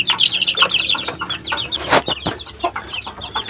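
Several chickens cluck and chirp nearby in quick, overlapping calls, with a louder squawk partway through.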